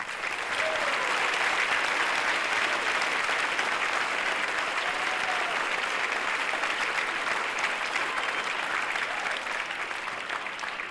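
A school event crowd applauds volleyball players with steady, dense clapping and some cheering, sustained and fairly distant throughout.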